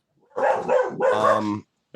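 A dog barks in two quick, loud bursts close to the microphone, each bark rough and full, with quiet on either side.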